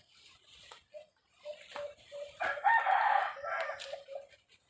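A wild junglefowl rooster gives one loud, close crow in the middle, surrounded by short soft clucks and faint background chirps.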